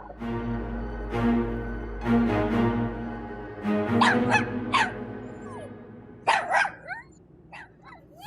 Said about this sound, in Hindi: अब इस घर में कुत्ता भी आ गया